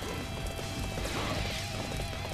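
Wooden horses trample about in Dynasty Warriors 8 Xtreme Legends, a steady rumble of galloping hoof clatter and impacts amid dense battle noise throughout.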